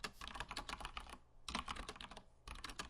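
Fingers tap out code on a computer keyboard in quick, close bursts of clicking keystrokes, separated by two short pauses, with no voice over it.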